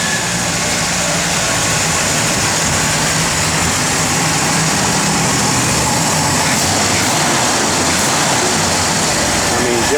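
A 1969 Pontiac GTO engine idles steadily with a low, continuous rumble, close and fairly loud, with no voices.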